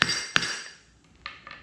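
Locking pieces knocked into a no-weld astromech droid center leg: two sharp, ringing metallic strikes close together, followed by two fainter taps a moment later, with no talk.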